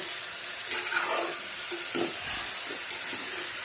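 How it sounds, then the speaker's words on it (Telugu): Cucumber pieces being stirred into a tomato curry in a hot pan over a medium flame, a steady sizzling fry with soft scraping stir strokes and occasional light clinks, no talking. "తర్వాత దోసకాయ వేసి ఇట్లా కలిపేయాలన్నమాట."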